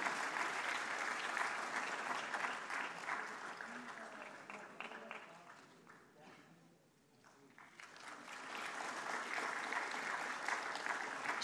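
Audience at a national awards ceremony for the empowerment of persons with disabilities applauds loudly and steadily, the clapping dipping briefly midway before swelling again to a dense, sustained roar.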